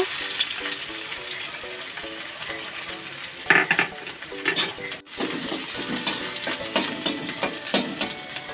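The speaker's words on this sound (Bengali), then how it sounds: "আদাটা ভালো করে ভেজে নেবো" Ginger fries in hot oil in a pan, a close, steady sizzle broken by bursts of scraping and stirring, metal knocks of a utensil against the pan, and a brief pause midway.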